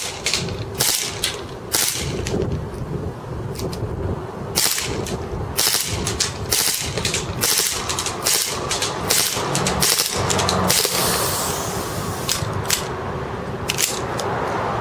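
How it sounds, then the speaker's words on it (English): A KWC Taurus PT99 CO2 airsoft pistol fires on full auto outdoors, with sharp cracking shots in quick bursts and brief gaps, loud and close, then a fading hiss of gas at the end. "Let's go full auto, see if we can still hit it."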